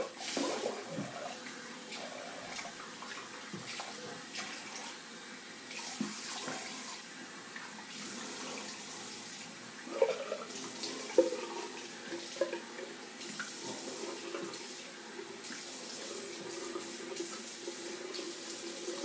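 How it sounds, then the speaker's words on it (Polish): Cold tap water runs steadily into a bathroom sink while a face is rinsed after a wet shave, a continuous close splashing stream with a few louder splashes and drips as hands scoop and rinse. "Spłuczę twarz zimną wodą."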